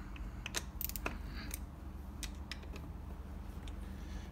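Bolts on a scooter transmission casing are tightened in alternation with a hand tool, producing quiet, irregular ratcheting clicks and small metallic ticks against a low background hum, with no speech.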